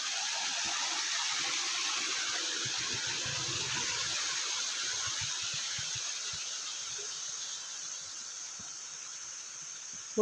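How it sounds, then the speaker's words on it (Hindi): A natural mountain stream of flowing water near a village in the Almora hills, Uttarakhand, rushes as a steady, broad hiss that stays even and continuous throughout, with no voices. "पानी का धारा"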